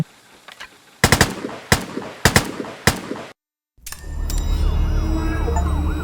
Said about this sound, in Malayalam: ആ വെടി വെച്ചു